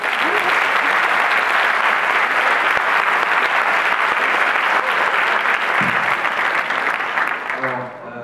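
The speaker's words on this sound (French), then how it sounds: "je pense qu'on peut les applaudir bien fort." A conference audience applauds association volunteers and project leaders, giving dense, loud, sustained clapping that fades out at the end as a voice comes in.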